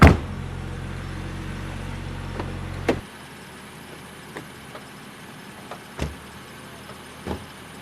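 A police patrol car, heard in a loud engine rumble for about three seconds before it cuts off, followed by scattered faint thuds and clunks like doors and handling in a quiet interior.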